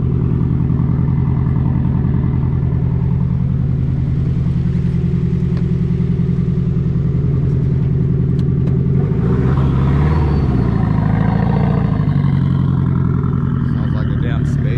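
A 400+ horsepower Nissan 240SX S14 with an SR20 engine drones loudly from inside the cabin on a ride-along, a steady deep engine hum that swells into a rising rev, with people talking over it.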